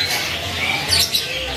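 High, thin chirps and tweets from caged songbirds at a bird market over a steady noisy background, with a couple of brighter calls standing out.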